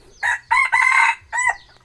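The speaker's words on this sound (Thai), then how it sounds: "นี่เสียงขั้นมัน" A rooster crows in three close bursts, loud and near, with short gaps between the calls, on a farm where hens are being kept for eggs.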